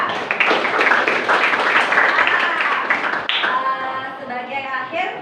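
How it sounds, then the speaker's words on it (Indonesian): A class of students claps together, giving dense, loud applause that fades into scattered claps, with young voices chattering over it toward the end. "Mari kita berikan aplaus untuk kita semua ya"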